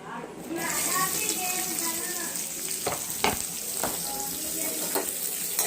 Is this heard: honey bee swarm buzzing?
no